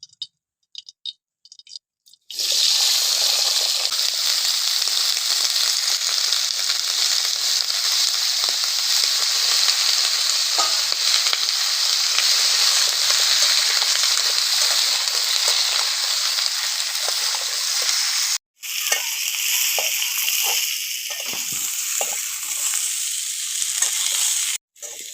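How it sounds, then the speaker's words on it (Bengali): Kohlrabi frying in oil left over from frying fish, a steady loud sizzle running almost the whole time after a short quiet start, with one brief break near the end and no talking. "মাছ ভাজা তেলের ভেতরে আমি শালগমটা ভেজে নেবো"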